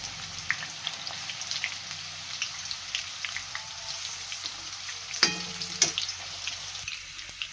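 Raw banana slices frying in oil in a pan, a faint continuous crackle and sizzle with scattered pops and a couple of louder scrapes from a spatula, no voices.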